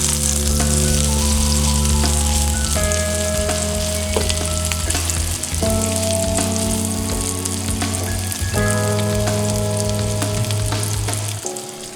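A hamburger patty sizzles in a covered frying pan, a loud, continuous frying hiss with steady crackle heard up close, easing slightly just before the end.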